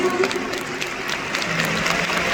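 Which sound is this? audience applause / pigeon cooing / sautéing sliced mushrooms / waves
audience applause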